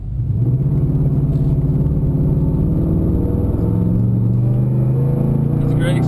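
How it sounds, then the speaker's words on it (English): A Nissan Titan pickup truck accelerates hard up an incline, its engine a loud, close, continuous roar whose droning tone climbs steadily as it pulls. "as soon as I get a green light, we'll put the pedal to the metal and see what this thing's made of"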